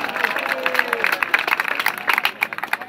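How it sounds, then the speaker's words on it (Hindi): At a Guru Nanak High School event in Nankana Sahib, an audience claps for Punjabi bhangra performers in a steady, moderate patter of applause, while an announcer speaks over it on a microphone. "तो इसके लिए भरपूर तालियों के साथ जनाब राय शाहिद और उसके साथी जी आएंगे"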